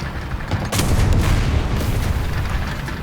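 A tank gun firing and a shell exploding in War Thunder, a heavy boom at about 0.7 s with a loud rumbling roar that lingers over engine noise, no voices.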